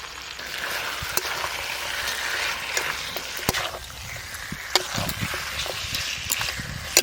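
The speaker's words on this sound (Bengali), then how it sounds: "এবারে টমেটো কুচি দিয়ে দেবো।" Chopped tomato drops into a pan of meat masala, setting off a steady, close sizzle of frying, with scattered stirring clicks and scrapes that grow sharper toward the end.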